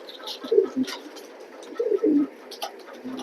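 Pigeons kept for sale coo in several low, throaty bursts, close by and fairly clear against a quiet background.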